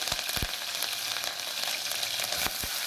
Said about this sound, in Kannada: ಈ ಥರ ಸಾಸಿವೆ ಸಿಡಿದ ಮೇಲೆ